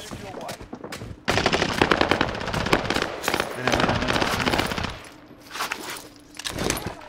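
Loud bursts of automatic gunfire in a battle-royale shooter game, rapid rattling volleys stopping and starting over several seconds, with a voice talking faintly underneath.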